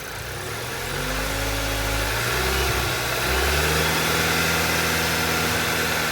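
A car engine revs up steadily from idle, its pitch climbing and holding at a higher, sustained drone, close and fairly loud.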